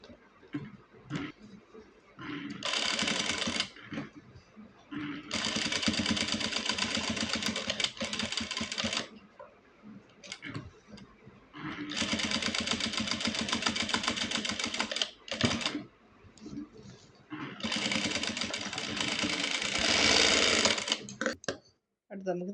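A sewing machine runs in three long stitching bursts of several seconds each, with short pauses between them, as it sews blouse fabric for a cut-work design. The whirring is steady and close.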